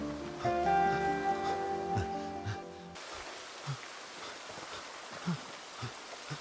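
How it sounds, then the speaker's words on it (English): Steady rain falling in the survival game Project Zomboid, a soft even hiss with scattered low patters. It rises out of fading musical tones and then carries on alone. "Well, would you believe it? Raining already."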